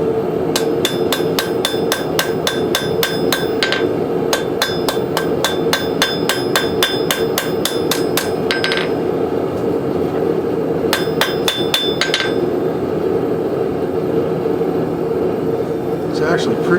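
A hammer strikes a steel blade bevel on an anvil during forging of a woodcraft tool, ringing out in fast regular bursts of bright metallic blows separated by short pauses, loud and close over a steady background roar.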